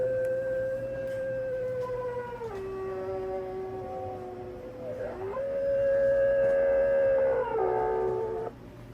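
Built-in noise toy on a Uniden Washington MB8719 CB radio producing a wavering, howling siren-like electronic tone that slides between pitches, steady and loud over a faint background hum, with no talk.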